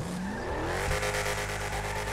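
A car in GTA Online spins its wheels while straining to climb a hill, the engine revving and rising in pitch over a continuous tire squeal and skidding drone, loud and close throughout.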